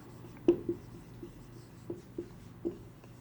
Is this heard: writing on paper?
yes